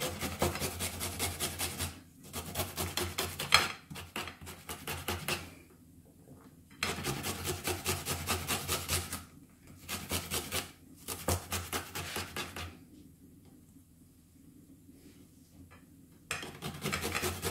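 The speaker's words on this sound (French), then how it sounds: "Maintenant, on va râper l'ail." Garlic is rasped on a grater for a chicken and aubergine tajine in white sauce. Bursts of quick scraping strokes, each a couple of seconds long, are separated by short quiet pauses, close and clear.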